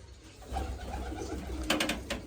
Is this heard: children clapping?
no